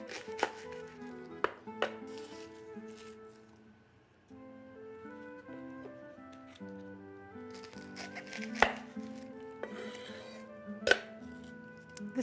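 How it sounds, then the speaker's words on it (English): Garlic heads being set onto a garlic roaster in a kitchen, with scattered clinks and light taps of ceramic and glass, a few sharper knocks, over a faint background tone. "So I'll arrange the garlic heads on the garlic roaster."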